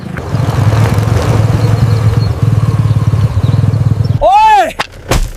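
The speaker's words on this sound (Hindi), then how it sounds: "बाइक बंद कर वहां, अभी के अभी।" A motorcycle engine runs loud and close with a steady low throbbing rumble for about four seconds, then cuts into sharp bursts and a rising whine near the end; no one speaks over it.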